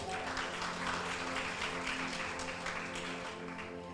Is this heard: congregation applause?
yes